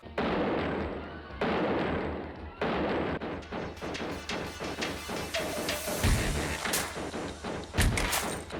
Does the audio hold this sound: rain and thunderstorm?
no